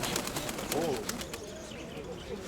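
Pigeons coo softly at a busy bird fair in Dnipro, a few low rolling calls amid crowd murmur and background voices, with light clicks and rustling nearby.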